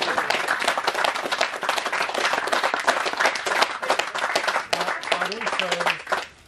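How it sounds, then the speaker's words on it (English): Steady applause from a crowd at a tench fishing championship awards fills the room for several seconds, then fades out as it ends. "So can we have a round of applause for yourself?"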